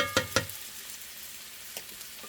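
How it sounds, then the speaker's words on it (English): Onions fry quietly in a pan, a soft low sizzle broken by a couple of sharp clinks near the start and faint taps later, with no voices. "And just kind of saute for a minute or 2."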